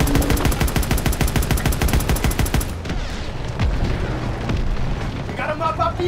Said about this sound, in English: Shooting that 50 cal, baby.